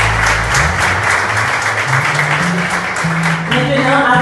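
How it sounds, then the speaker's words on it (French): A church congregation applauds during a Sunday service celebrating nurses' day, a steady dense clapping that stays loud throughout, with music playing underneath. "On va lui applaudir, s'il vous plaît"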